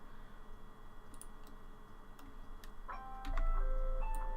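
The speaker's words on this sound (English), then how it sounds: "Oh, that's my alarm." A phone alarm goes off during a Blender tutorial, its tones rising faintly out of soft keyboard clicking and growing louder toward the end.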